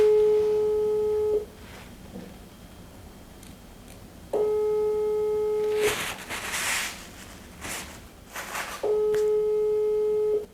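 An unanswered phone call gives three long beeps of a busy-line tone separated by pauses, with rustling handling noise between them; no one speaks.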